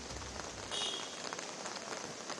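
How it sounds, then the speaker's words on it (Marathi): Heavy rain pouring down in Mumbai's Dadar area, a dense steady hiss of rainfall drumming on surfaces, continuous and fairly near with no voices. "मध्येच मुसळधार पाऊस सुरू होतो"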